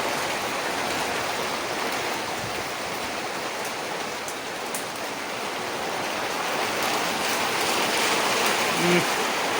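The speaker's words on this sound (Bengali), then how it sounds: "বিছনায় জল পড়ে কী অবস্থা এখানে তো ও এই জল পড়ছে" Water pours steadily onto a bed indoors, a continuous loud splashing rush that stays even throughout with no break.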